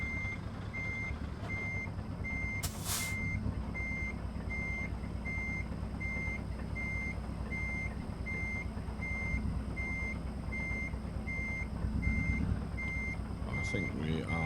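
Truck reversing beeps while parking in a truck driving video game, a steady regular series of evenly spaced beeps over a constant low engine rumble, with a brief hiss partway through.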